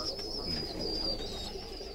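Pigeons cooing in a loft, soft low murmuring coos under a steady background with a faint high tone running through, quiet and continuous.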